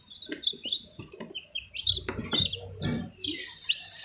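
Young chicks cheep and peep in quick high bursts at close range while being picked up for feeding, with soft handling rustles and bumps underneath.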